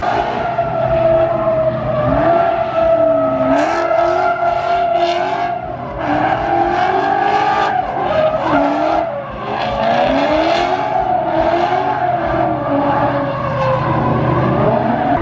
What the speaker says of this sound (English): Driving the Pennzoil car, RTR 17 Mustang. We're about to go shred it a little bit.